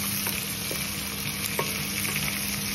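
Garlic, onion and ginger sautéing in a pan for mung beans: a continuous close sizzle with light stirring scrapes and occasional small pops, no voices.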